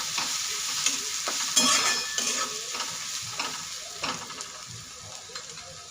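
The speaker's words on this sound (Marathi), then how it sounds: "ती पण तेलामध्ये ना छान अशी परतून घ्यायची" Green chili and masala sauté in hot oil in a pan for a ridge gourd dish, a close crackling sizzle broken by repeated stirring scrapes of a spoon, fading slightly toward the end.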